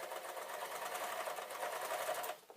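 A serger sewing machine stitches a small tote, running as a steady, close, fast whirring buzz for about two seconds before it stops.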